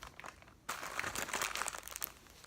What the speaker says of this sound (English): I literally have a plastic bag full of panty liners